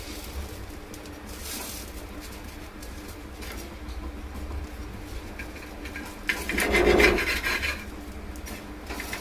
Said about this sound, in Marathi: तुकडे करून घेते मी तव्यावरच.